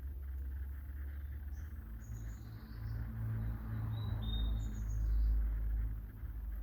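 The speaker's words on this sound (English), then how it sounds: "I think it's a blackbird, isn't it?" A blackbird sings outdoors on a quiet morning, a few clear warbling phrases rising faintly above a steady low rumble of distant traffic, with no talking.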